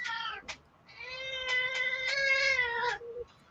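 A domestic cat lets out a short meow and then a long, drawn-out, whining yowl, close and clear in a quiet room with no speech over it.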